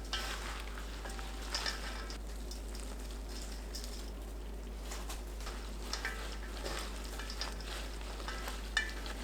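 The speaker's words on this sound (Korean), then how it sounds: "고춧잎 한 줌 넣고 콩가루 뿌리는 것을 반복해서 켜켜이 쌓은 뒤 버무립니다" Handfuls of chili pepper leaves tossed and mixed with raw soybean flour, a steady soft rustling and crackling of leaves and powder with scattered light clicks, close and continuous, with no talk.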